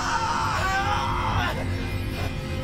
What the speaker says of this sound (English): Super painful scream.